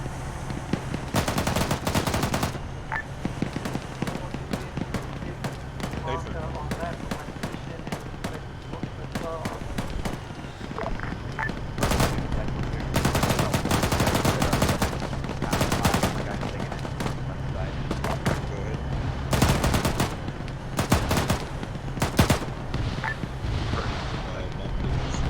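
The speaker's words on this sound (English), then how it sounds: "You have a machine gun, use it." Machine guns fire in a military combat video game in repeated bursts of rapid automatic shots, loud and close, with pauses between volleys and a voice talking over the fighting.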